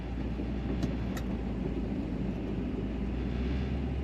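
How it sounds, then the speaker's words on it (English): A 1958 Chrysler 300D convertible idles with a steady, smooth low rumble. The engine hum holds even throughout, with faint background noise and no talking. "This car idles nice and smooth"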